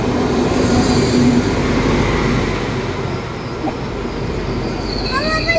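A German regional train rumbles loudly and continuously nearby, its wheels giving a faint squeal near the end, while a family talks over the noise.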